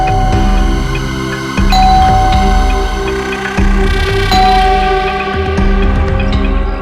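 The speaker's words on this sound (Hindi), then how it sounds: "जब चाबी है तो गेट खोलना, डोरबेल क्यों बजा रही है?" An electronic doorbell chimes loudly several times in a row, each ding-dong ringing out with a sustained, echoing tone and no voices.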